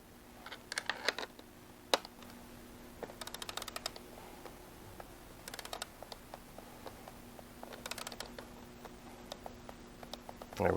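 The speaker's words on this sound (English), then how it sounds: "So I'm going to switch to my torque wrench so that I can finish that off to spec." A torque wrench tightens a clamp on a Harley-Davidson Pan America, giving faint clustered clicks and ratcheting ticks in several short bursts over a quiet background.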